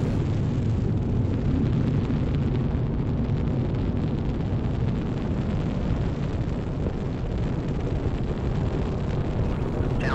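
Space Shuttle Challenger lifting off on the 25th shuttle mission, a loud continuous rocket roar with dense low rumble and broadband hiss that holds steady throughout, with no voices over it.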